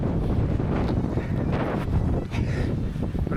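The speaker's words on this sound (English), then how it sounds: "Wind's picking up" Strong wind buffets the microphone on a Long Island Sea 2 Sea ride, a loud, continuous roar that swells and eases without a break.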